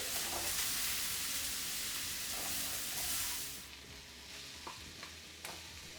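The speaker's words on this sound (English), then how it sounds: "So let's give it a bit of a stir through." Sausage meat with fennel and red pepper sautéing in a pan, steady sizzle with stirring scrapes, loud at first then easing to a softer fry with occasional clicks of the spoon.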